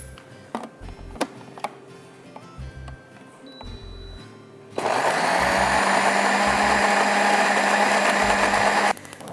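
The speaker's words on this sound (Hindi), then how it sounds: "अब what you need to do is you need to blend this" A few light clicks and taps, then a blender roars on loud and steady for about four seconds, blending onion with a little water into a thick paste, before cutting off.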